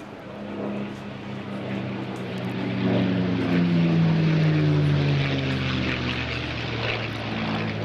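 A P-51D Mustang propeller fighter flies a display, its piston engine droning loudly and swelling as it passes, the pitch sliding downward mid-pass before easing off, with no voices.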